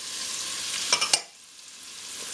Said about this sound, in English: my butter is melted, so I'm adding the mushrooms, the celery, the onion